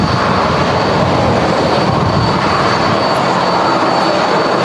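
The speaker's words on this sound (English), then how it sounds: "Ryanair heading back to its stand on Terminal 3 here in Manchester" Ryanair airliner taxiing back to its stand at Manchester Airport Terminal 3 on a windy day, a steady broad engine roar holding at a constant level throughout, with a faint high whine above it.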